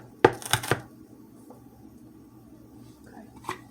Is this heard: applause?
no